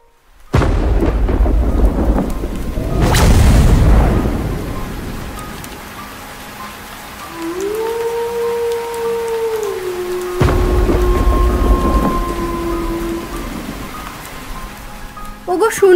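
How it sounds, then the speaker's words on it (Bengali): Thunderstorm with loud thunder claps near the start and again around the middle, over steady rain, with a sustained tonal drone running through the quieter stretch. "কি ঝড়টাই না নামলো।"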